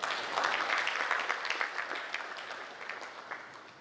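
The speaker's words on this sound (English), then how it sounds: "You should clap for that." Moderate applause from an audience at a university vice chancellor's media briefing, a brief wash of clapping that gradually thins and quiets.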